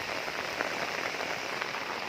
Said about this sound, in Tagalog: Muulan, naabutan sila ng ulan.